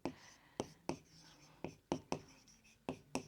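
Chalk writing the weight of a packet on a classroom board: quiet, rhythmic taps and scratches, about ten short strokes in quick succession, close and faint with no talking.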